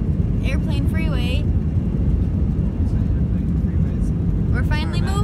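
An airplane taxiing on an airport runway makes a loud, continuous low rumble with wind-like roar, and voices are briefly heard at the start and again near the end.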